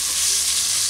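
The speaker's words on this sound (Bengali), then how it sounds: "এখন তেলের মধ্যে এই মূলোটাকে ভালো করে একটু ফ্রাই করে দেব সময় নিয়ে।" Grated radish fries in hot oil with a loud, steady, close sizzle and no pauses.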